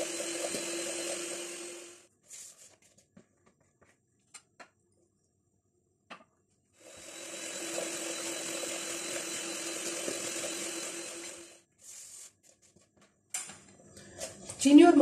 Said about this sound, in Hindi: चीनी और मक्खन को मैंने बहुत ही अच्छी तरह से तकरीबन 2 मिनट तक इसको बीट कर लिया है।